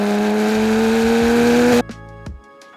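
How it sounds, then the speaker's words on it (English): A Porsche GT3 exhaust climbs in pitch and volume as the car accelerates, a loud steady tonal drone that cuts off abruptly, followed by a few faint clicks and a brief low rumble. "you can hear that the exhaust audio is getting louder"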